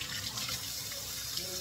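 Tap water runs steadily into a kitchen sink for washing, a fairly quiet, continuous splashing stream heard up close.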